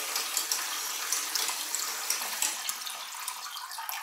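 Water gushing from a garden hose after a water filter change, a steady hiss of flow with light splashing, continuous and moderately close.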